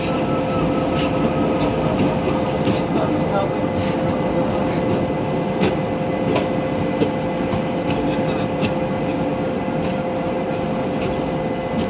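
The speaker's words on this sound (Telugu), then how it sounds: "నాగిరెడ్డిపల్లి నుంచి మన ట్రైన్ బయలుదేరింది" Leaving Nagireddipalli station, the Palnadu SF Express gives off a steady rolling rumble with light, regular clicks of wheels passing rail joints, heard from inside the carriage.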